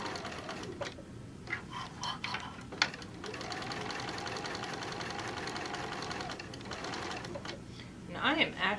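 A home sewing machine stitching fabric for a Noah's Ark and animals craft, running at a steady, unhurried pace with a continuous mechanical hum and brief pauses, close by and fairly loud.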